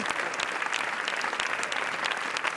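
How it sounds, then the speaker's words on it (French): Sustained applause for a film team on the red carpet at the Cannes Film Festival, a dense, steady wash of many hands clapping at once, continuous and moderately distant. "L'équipe du film longuement a applaudi."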